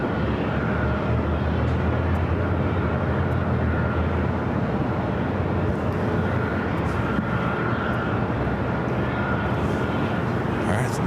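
A heavy airliner takes off at LAX, its jet engines producing a loud, sustained broadband roar that holds steady throughout without any talk.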